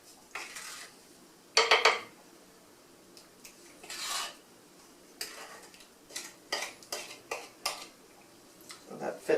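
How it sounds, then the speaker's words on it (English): A spoon scrapes and clinks against a pot while stirring cherry pie filling with sugar, in intermittent close knocks and rasping strokes, with a louder clatter near the start. "So I'm going to give that another stir."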